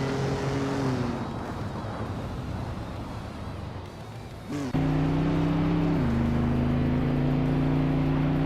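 Race cars during a race that includes a vintage 1968 Mercedes-Benz 300 SEL, with steady engine drones that shift pitch as cars pass, a brief whoosh midway, then a louder sustained engine tone that drops as it shifts.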